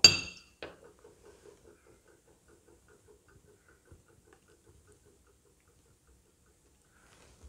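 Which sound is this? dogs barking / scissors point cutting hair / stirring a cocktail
stirring a cocktail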